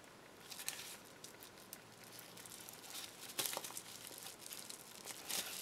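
Quiet, close crinkling and rustling of paper taken from a mailing envelope, handled continuously with a few sharper crackles and pats along the way.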